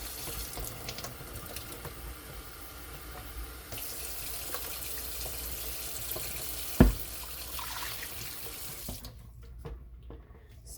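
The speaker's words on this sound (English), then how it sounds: "let me rinse this because I will need it for color." A running faucet rinses an item at a sink during soap making, giving a steady, close stream of splashing water that carries on for most of the time and then cuts off near the end, with a single knock partway through.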